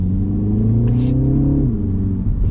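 A 2025 MINI Cooper S engine hums and revs up steadily, its pitch climbing, then shifts and settles as the car pulls away nearby.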